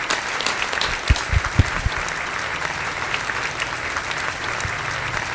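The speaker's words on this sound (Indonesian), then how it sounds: "Tepuk tangan buat Edwin Samosir." Steady audience applause fills the room for a stand-up comedian taking the stage at a Batak comedy show, with a few sharper nearby claps standing out.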